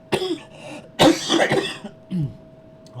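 Several harsh coughs in quick succession, close and loud, followed by a shorter throat-clearing cough after a pause.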